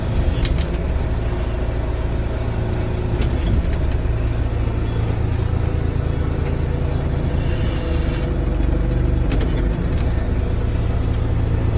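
A backhoe's diesel engine runs at a steady, loud rumble close by, with a constant low drone and no speech.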